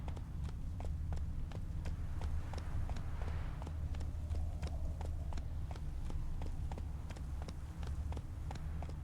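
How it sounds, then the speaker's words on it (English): A horse's hooves galloping in The Witcher 3 video game, a rapid even clip-clop beat running throughout over a steady low rumble, moderately close. "Whoa there, Roach."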